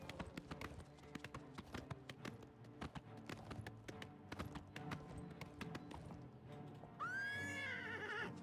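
A horse in The Elder Scrolls 4: Oblivion walks with fast, steady clip-clopping hooves, then lets out a loud whinny near the end, heard fairly close over game ambience.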